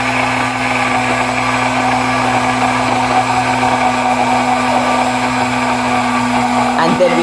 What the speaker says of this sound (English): And then we can start moving the blender to continue blending in the oil.